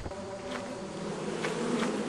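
Bees swarming from a beehive in the video game Lethal Company, a steady close buzzing drone that swells slightly over two seconds, with no voices.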